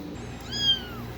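A single clear kitten meow rises and falls, close and fairly loud, over a quiet indoor background.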